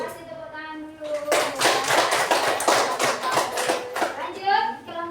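Children in an Indonesian school classroom clap their hands together, a burst of brisk, fairly close clapping that starts after a second of chatter and runs for about three seconds, with young voices talking before and after.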